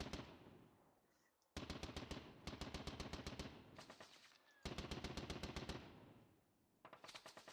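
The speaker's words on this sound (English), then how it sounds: "Whoa, lots of machine guns." Dense machine-gun bursts in a World War I 1914 battle game at Dinant, France, long rapid rattling volleys in two main stretches with quieter gaps between.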